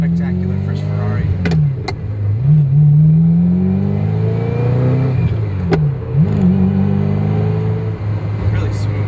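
Ferrari 348tb sports car engine revving on a test drive, a loud mid-range drone with repeated rising and falling pitch sweeps as the revs climb and drop, continuous throughout, with a person talking over it.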